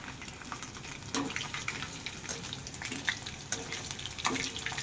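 Chicken frying Telugu style in a pan, a steady close sizzle and crackle with a few louder pops, no talking.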